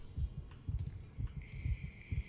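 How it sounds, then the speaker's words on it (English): Heartbeat sound effect in a Lethal Company-style co-op horror video game, a steady rapid lub-dub pulse of low thumps repeating throughout, with a faint electronic tone rising in the background. "why is your heart beating so fast?"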